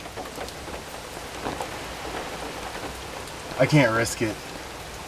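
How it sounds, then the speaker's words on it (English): Heavy rain from Hurricane Irma pouring steadily onto surfaces in Orlando, Florida, a constant hiss, with someone speaking briefly near the end. "It's raining pretty good."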